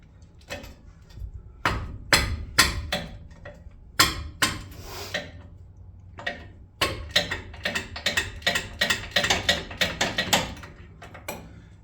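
Ratchet work on the 21mm front brake bracket bolts of a Gen 1 Raptor: a close series of sharp metallic clicks, clanks and knocks in irregular bursts, with brief pauses between.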